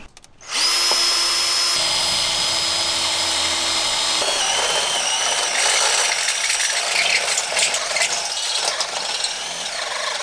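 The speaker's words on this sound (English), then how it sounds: "I'm going to actually put a little bit of cutting oil on my drill bit too" A step drill bit bores through the metal of a Jeep Wrangler JL with cutting oil applied, a loud continuous high-pitched whine grinding on close by for the whole stretch after a brief start, with no talk.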